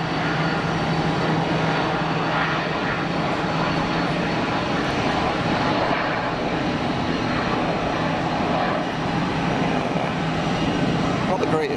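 Jet engine spooling up at Geneva Airport, a loud, steady broadband roar that holds strongly throughout, heard from a spotting position with voices talking over it.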